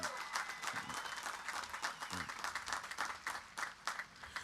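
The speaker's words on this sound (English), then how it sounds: "Please, a round of applause." An audience claps at a high school graduation ceremony for the PCHS Class of 2024, a moderately distant, steady round of applause with no talk over it.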